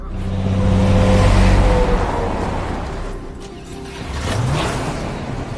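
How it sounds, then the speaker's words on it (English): An old car pulls out and drives off on a film set, its engine rumbling loud and close before easing slightly, then swelling again as it moves away. "Now Iris is going to pull out, and the light's going to turn for green for her"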